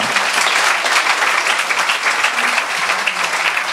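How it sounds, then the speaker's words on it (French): A live audience applauds at a startup pitch event in Paris as a presenter comes on stage, a loud, steady wall of dense clapping that holds at the same level for the whole stretch with no talk over it. "on va applaudir Jessie qui va venir me rejoindre sur scène"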